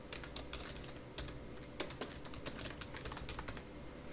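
Typing on a computer keyboard into a Microsoft Word document, a steady patter of close, quiet key clicks with a few sharper strokes, no speech.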